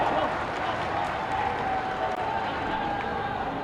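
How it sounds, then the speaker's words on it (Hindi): Audience applause for beneficiaries at Yogi Adityanath's event in Bhadohi, a steady, dense wash of clapping from a large crowd, even in loudness throughout the short stretch with no break. "हमारे सभी लाभार्थियों के लिए मैं जोरदार तालियों के साथ स्वागत"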